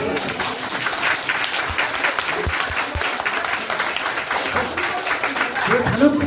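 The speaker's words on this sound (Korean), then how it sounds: "진짜 이제는 박수 한번 쳐드려야 돼요." A roomful of attendees at an information session for investment victims breaks into loud, dense applause that continues steadily, with voices mixed in beneath the clapping.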